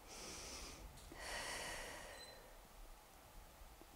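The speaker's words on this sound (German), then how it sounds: "Tiefes Ein- und Ausatmen." Someone breathes deeply in and out during a chair yoga session: soft, breathy airflow, close but quiet, with one fuller breath in the middle.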